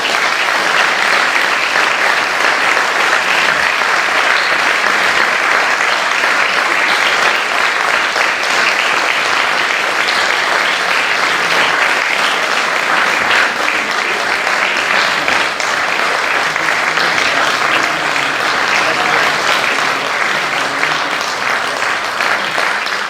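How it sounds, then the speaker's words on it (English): Sustained audience applause after a professor's inaugural university lecture, a thick, even roar of many hands clapping that carries on steadily for over twenty seconds, fairly loud and unbroken, with faint crowd murmur beneath. "if you can applaud while I do that"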